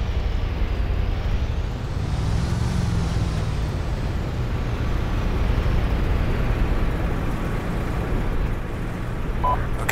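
Vehicle engines of a military convoy idling and running in the Arma 2 game, a steady broadband rumble held at a constant level throughout, with no talk.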